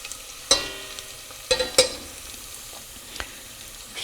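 Garlic sizzles in olive oil in a boat galley, a low steady frying hiss broken by a few sharp clinks and scrapes of stirring.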